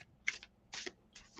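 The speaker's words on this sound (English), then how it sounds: "I'm shuffling." Tarot cards are shuffled in three quick, crisp riffling bursts, close and quiet, with brief pauses between them.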